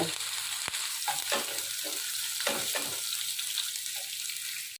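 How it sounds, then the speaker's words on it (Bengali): Chopped onions fry in hot white oil, a steady broadband sizzle broken by several soft scraping stirs of a spatula, close and continuous with no voices. "পেঁয়াজটা জাস্ট একটু নেড়ে নিয়েছি"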